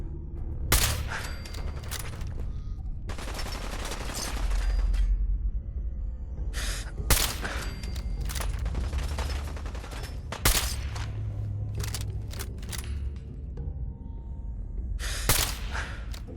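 Gunfire in Fallout 4 strikes a shopping cart: rapid bursts of shots crack out in clusters, some close and loud, some sharper single hits, with short gaps between volleys.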